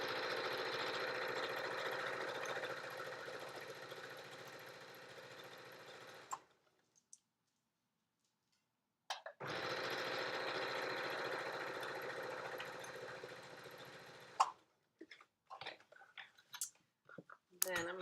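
A sewing machine stitching a Yup'ik make-up bag runs in a long steady whirring burst, stops for a few seconds, runs again, then gives way to scattered clicks and handling noises, with no speech.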